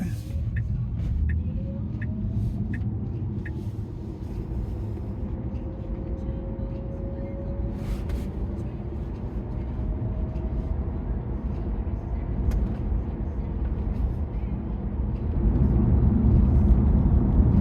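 Electric car pulling away and turning a corner on a country road near Kerang, a low steady road rumble and faint rising motor whine that swells slightly toward the end, with someone talking over it.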